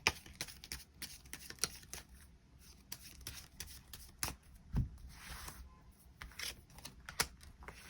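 Tarot cards shuffled for extra draws, heard as close, soft clicks and papery flicks in an irregular rhythm, faint against a quiet background, no voices.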